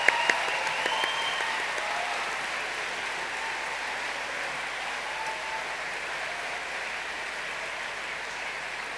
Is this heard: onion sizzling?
no